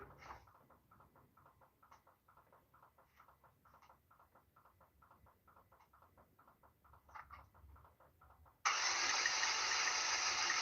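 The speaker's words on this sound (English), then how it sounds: "Now we're gonna swing the engine, guys." A 2012 Chevrolet Equinox 2.4-liter engine with no compression cranks without catching: a steady run of quick, even starter pulses for about eight seconds, then a sudden loud burst of broadband hiss at the end.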